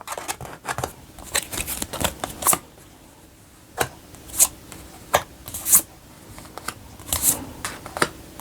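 Tarot cards are handled and turned over: crisp bursts of shuffling and flicking, then a quiet stretch, then scattered sharp card snaps and slides, close to the listener with no talk.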